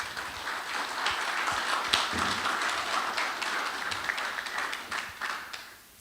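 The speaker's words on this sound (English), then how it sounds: "Please give him a round of applause." Applause for a candidate at a youth council debate in Anguilla, a moderate crowd clapping steadily in a hall at middle distance, fading toward the end.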